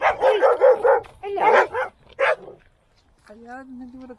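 Dogs barking near an abandoned World War 2 munitions depot in Lancashire: a burst of rapid, close barks and yips, then a pause, a couple more barks and a whimpering whine, with a brief spoken greeting.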